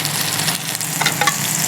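Food fries in margarine in a pan at a mountain-hiking camp, a dense close sizzle with sharp crackles and spits popping through it, continuous and fairly loud.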